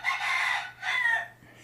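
A rooster crows twice in quick succession, loud and close, each call a bright drawn-out cry with a short gap between, heard alone with a faint low steady hum beneath.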